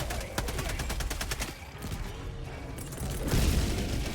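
An artillery strike in Helldivers 2 lands as a rapid string of booming, crackling explosions, followed by a heavy rumbling impact toward the end, loud and close.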